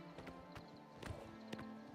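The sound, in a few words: horse hooves galloping, from a video game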